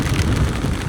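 Steady heavy rain roars during a motorbike ride, a dense broadband wash of noise with low rumble underneath, continuous and loud throughout with no voices.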